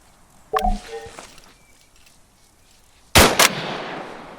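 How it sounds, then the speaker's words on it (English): Rifle fire from a kneeling soldier in ArmA 3: one sharp report near the start followed by a brief ringing tail, then after a pause a louder, denser burst of two or three close cracks with decaying echo. "When you're ready, put some rounds down range."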